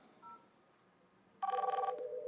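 A VoIP desk phone sounds an electronic ring for an incoming call, a bright pulsing tone burst arriving after a faint beep over quiet room hiss.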